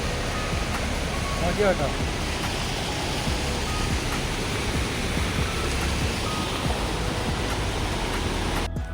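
Waterfall pouring after rain, a constant loud broadband rush of falling water that fills the scene evenly from start to finish.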